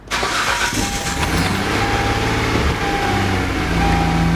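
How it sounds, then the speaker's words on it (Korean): A car engine cranks and catches right away after throttle body cleaning, then settles into a loud, steady idle close by. "이제 자기들이 막 다시 시동을 걸면 됩니다"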